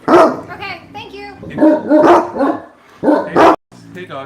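Several dogs bark loudly and close by in repeated bursts on a farm, reacting to a driveway motion alert, with a person's voice mixed in among the barks.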